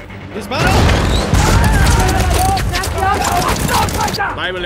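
A tank battle scene from a film: loud cannon blasts and bursts of gunfire crash close up, mixed with shouting voices.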